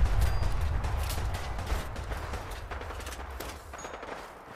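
Gunfire in Fallout 4, a steady rattle of many shots from a firefight heard at a distance, continuous and moderately loud with no talk over it.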